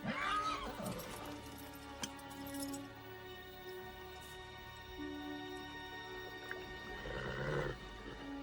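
A horse whinnies loudly near the start, then again more faintly toward the end, with occasional hoof clops and a low background hum.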